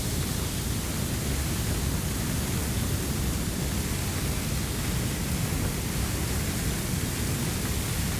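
A fire hose in fog mode in Firefighting Simulator: Ignite sprays a loud, continuous, broadband hiss of water spray. It stays dense and unbroken with no voices.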